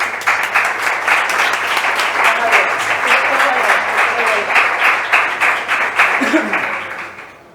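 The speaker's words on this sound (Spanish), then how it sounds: "un gran aplauso para Javier" At a flamenco guitar teaching talk in Jerez, an audience gives a warm round of applause for a guest, steady and full for about six seconds before tapering off, with a few voices mixed in.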